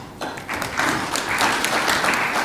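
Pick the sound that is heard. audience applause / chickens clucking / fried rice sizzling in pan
audience applause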